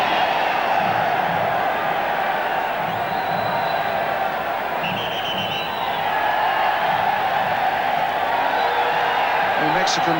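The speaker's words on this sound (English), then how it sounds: "The Mexican crowd amusing themselves at the moment with what they call the wave or the ola" Football stadium crowd at the 1986 World Cup in Mexico, during Italy against Argentina, doing the wave: a distant, continuous roar and cheering under a commentator's talk, swelling slightly toward the end.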